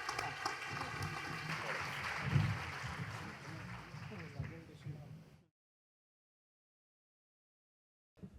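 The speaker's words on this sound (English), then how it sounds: "let's welcome with huge round of applause" Applause welcoming a university vice chancellor onto the stage, a dense wash of many hands mixed with low voices that builds to a peak, fades, and cuts off abruptly into silence.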